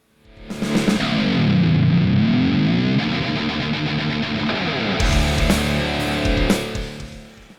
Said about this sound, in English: we've got the reverb pedal plugged in. Again, this is the Verb Square Evolution Plus.